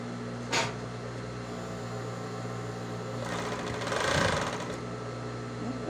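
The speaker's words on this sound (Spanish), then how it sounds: "ahora voy a coser el tiro delantero" Sewing machine stitching the front rise of a pair of leggings, a steady close whirring hum broken by short bursts of faster stitching, heard alone.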